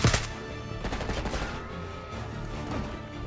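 Rapid gunfire rings out in Call of Duty Black Ops 6, a loud opening burst followed by repeated shots and crackling reports in quick succession, with no talk.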